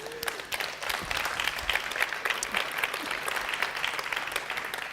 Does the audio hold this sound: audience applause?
yes